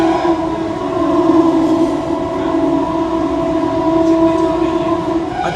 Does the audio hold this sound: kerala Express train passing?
yes